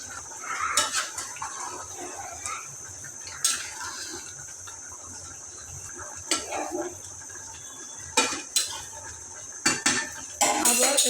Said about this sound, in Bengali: ঢাকনাটা তুলে এবার মাংসটাকে একটু নাড়াচাড়া দিয়ে দিব যাতে তলিতে লেগে না যায়।